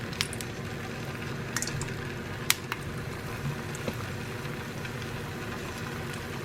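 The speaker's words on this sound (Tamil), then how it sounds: "வடை போட போகிறேன்." Small vadas made from soaked batter, ground without water, frying in hot oil: a steady close-up sizzle with scattered sharp pops and crackles, no voices.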